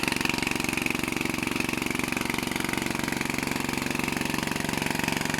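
A Kubota-style TF150 single-cylinder diesel engine drives a water pump, a loud, steady, rapid thumping chug held constant throughout, with no talk.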